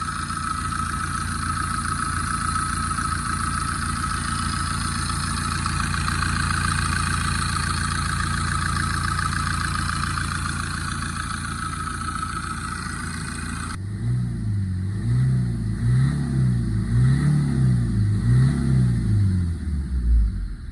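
A Chevrolet Enjoy engine, freshly reassembled, runs at a steady loud idle close by, then shifts into a rougher, pulsing low rumble as it is revved, with no talking.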